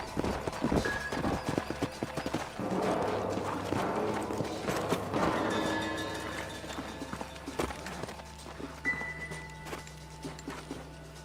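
Several horses' hooves clip-clop on the ground in the video game Red Dead Redemption, a busy, irregular patter of close hoofbeats that slows and settles as the riders halt, with a brief whinny and some faint background game sounds.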